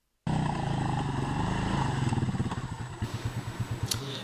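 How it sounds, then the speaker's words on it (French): A motorcycle jolts along a badly damaged village road, its engine loud and close from the start, with a rough, pulsing rattle in the second half as it bumps over the uneven surface. "emprunter une moto et subir ce parcours du combattant"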